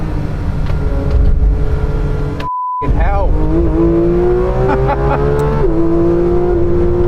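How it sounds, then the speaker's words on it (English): A Manthey racing car's engine drones loud and steady through on-track laps, rising in pitch under acceleration and dropping sharply between gears, while a driver speaks briefly over it. "it was time for my first laps in the Manthey racing car"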